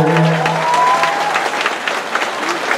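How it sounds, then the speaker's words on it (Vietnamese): Applause from a live concert audience fills the hall, a dense, steady clapping of many hands throughout, with a brief sustained musical tone underneath at the start. "vỗ tay cho quý vị."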